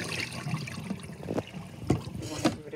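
Rinse water tipped off raw chicken being washed for Jamaican brown stew chicken, a close splashing pour with a few louder sloshes and bumps, with no speech over it.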